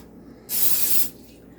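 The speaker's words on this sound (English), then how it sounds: "So I'm just going to, spray it. Look at my cooking spray." A single short burst of cooking spray hisses loudly onto a pan for about half a second, set against a quiet room.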